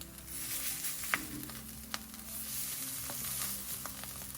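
Plant-based black bean, mushroom and olive burger patties sizzle steadily in a pan just after being flipped, a soft continuous hiss with a couple of faint clicks.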